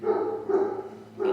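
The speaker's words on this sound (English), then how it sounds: "that's our dog back there." A household dog barks a few times from somewhere behind the room, the barks fairly close and moderately loud with short pauses between them, and no one speaks.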